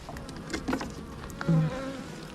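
Honeybees buzz around a hive as they are fed syrup, several close passing drones rising and falling over a steady background hum.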